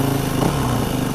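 Yamaha WR450F dirt bike engine with a drilled-out exhaust, idling steadily close by with a low, throaty burble.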